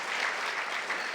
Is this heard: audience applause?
yes